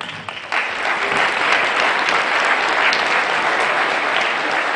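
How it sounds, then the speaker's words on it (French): Dense, steady applause from an audience at a Reconquête political rally in Louverné, Mayenne, swelling after a brief start and holding loud and continuous throughout, with no speech over it. "Je voudrais qu'on applaudisse le responsable départemental de la Mayenne Grande Conquête, Pierre Gardès."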